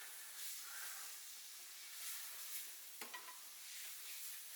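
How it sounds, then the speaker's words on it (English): Chopped leeks and flour sizzle and hiss in a pan for a sausage leek pie while being stirred, a soft continuous frying crackle with a few light scraping stir sounds. "And keep stirring and frying it for a minute."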